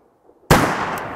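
A single sharp, loud gunshot from a 500 S&W Magnum pistol cracks after a moment of near silence, followed by a long booming decay outdoors.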